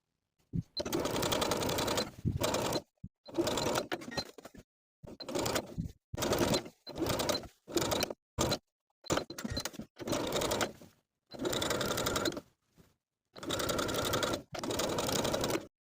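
A sewing machine understitches along a dress neckline in repeated bursts of fast whirring stitching, each run a second or two long and separated by short pauses, close and clear.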